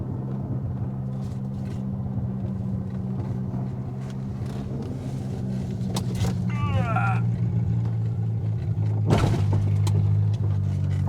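A Mercedes 190E engine runs steadily as a low, continuous rumble throughout, with a brief chirp and a sharp clatter partway in and voices talking over it.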